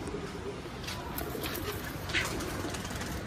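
White highflyer pigeons coo softly in a loft, low repeated murmuring calls over a steady background hum.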